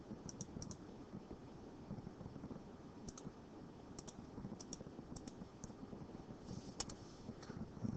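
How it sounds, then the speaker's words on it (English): Values are typed into a calculator or keyboard, soft quick clicks of key presses in small clusters with pauses between, close but quiet against a steady background hiss. "I'm going to type in my L1s."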